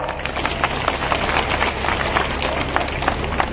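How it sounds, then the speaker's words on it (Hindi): A crowd at a political rally applauds in a dense, continuous patter of many hands clapping, steady and moderately loud, heard at some distance for a few seconds. "ये तालियां भी जोर से नहीं बजी।"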